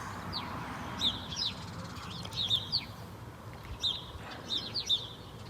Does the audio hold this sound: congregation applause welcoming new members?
no